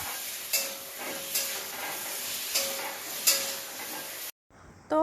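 Potatoes fry in hot oil in a pan, a continuous bright sizzle punctuated by four stirring surges, then a sudden drop to near silence before the sizzle returns; no talking.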